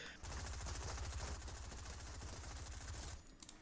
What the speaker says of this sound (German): Und ich bin am Schießen wie ein Weltmeister, ey.